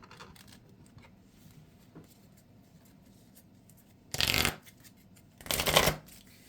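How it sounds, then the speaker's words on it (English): Marvel Champions encounter-deck playing cards shuffled on a table: two short, loud riffling bursts about a second apart, with quiet handling sounds in between. "after we shuffle these cards into the encounter deck"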